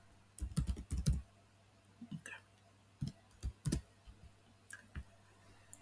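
Keystrokes on a computer keyboard while fixing a misspelled word, coming in short clustered bursts of close clicks separated by pauses.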